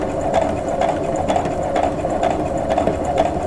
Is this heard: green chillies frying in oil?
no